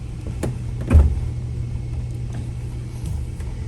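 A car hood latch releases with a single dull clunk about a second in, set against a low, steady background hum with a few faint knocks afterward.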